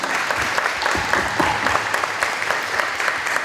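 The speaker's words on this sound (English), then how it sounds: "Let's give them a round of applause." An audience at an elementary school honor society induction ceremony gives a steady round of applause, dense overlapping claps filling the room at an even level throughout, with no speech over it.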